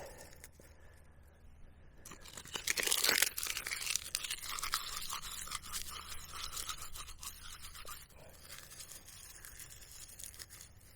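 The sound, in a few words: crumpling fire tinder material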